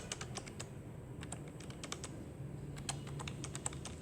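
A phone number is typed on a computer keyboard as a quick run of light, clicky keystrokes with uneven rhythm, faint and close against a quiet room hum, with nobody speaking.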